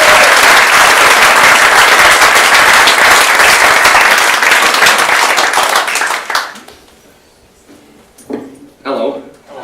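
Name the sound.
folk club audience applause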